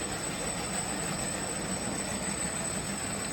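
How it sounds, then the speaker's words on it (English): Two model trains run together on the track, making a quiet, steady whir and rumble with a high whine in it. The sound stays even and holds at the same level throughout, with no voices. "So now it looks like the train that's in the rear is actually catching the one in the front."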